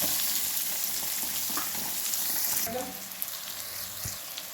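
Onions sizzling and frying in hot oil in a pan for avarekalu upma, a steady loud hiss that shifts as they are stirred, with a few utensil scrapes and clinks near the end.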